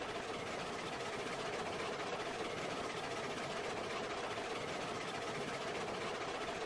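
A steam locomotive in the railway game Railroads Online chugs and rumbles steadily throughout, a loud, continuous low engine drone with broadband hiss and no speech over it.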